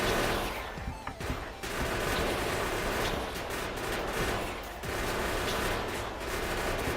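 Automated gun turrets in the factory-building game Factorio fire sustained rapid bursts at attacking biters, a loud continuous rattle of overlapping shots with brief pauses between volleys.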